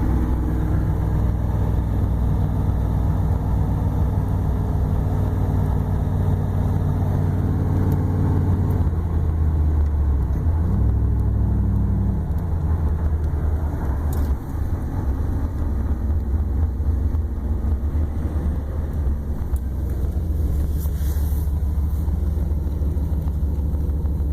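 Car running on woodgas accelerating: a steady, loud engine drone heard from inside the cabin, with the pitch shifting as it speeds up, continuous throughout with no talk.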